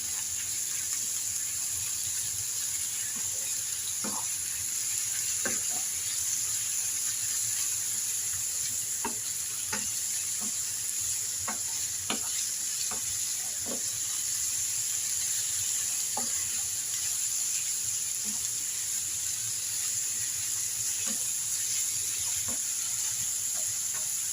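Chicken fillet pieces sizzle steadily in a hot frying pan while being stirred, with a continuous crackling hiss and scattered scraping clicks of the utensil throughout, no talking.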